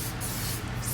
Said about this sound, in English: spray a little oil sheen on it